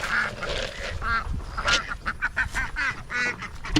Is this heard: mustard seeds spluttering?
no